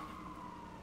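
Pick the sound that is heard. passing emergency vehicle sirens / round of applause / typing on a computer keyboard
passing emergency vehicle sirens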